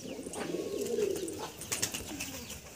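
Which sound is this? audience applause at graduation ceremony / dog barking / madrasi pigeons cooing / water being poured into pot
madrasi pigeons cooing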